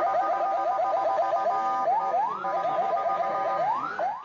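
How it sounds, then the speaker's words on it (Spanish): Ambulance sirens wail at a road crash scene on the Babahoyo-Jujan highway in Ecuador, several rising and falling siren tones overlapping at moderate distance with no voices. "Las ambulancias llegaban para trasladar a los heridos"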